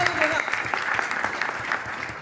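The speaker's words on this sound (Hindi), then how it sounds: "केवल मेरे बोलने के लिए ताली बजा रहे हो या फील भी कर पा रहे हो" Audience applauding at a business education seminar in Delhi: a continuous burst of clapping from a gathered crowd, fairly close and even, with a voice speaking over it.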